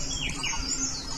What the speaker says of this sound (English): beautiful birds chirping around while I'm capturing from a balcony